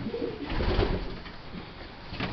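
Prized pedigree racing pigeons at a fancier's loft coo in low, throaty, repeated burbling calls, close and fairly loud over a steady rough background hiss, with no talking.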